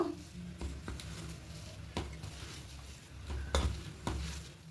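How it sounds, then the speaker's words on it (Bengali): Peanuts fry in a pan with a soft, steady sizzle, broken by several sharp clinks and scrapes of a spoon stirring against the metal. "বাদামটা ভাজা হয়ে গেছে এবার তুলে নেব"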